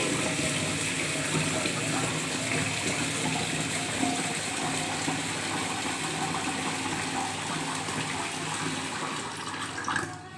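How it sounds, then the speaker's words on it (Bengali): Tap water runs steadily into a cooking pot in a home kitchen after the rice has been washed, giving a constant, close, fairly loud splashing rush with no speech. "চাল ধোয়া কমপ্লিট এবার জল ভরে নিচ্ছি"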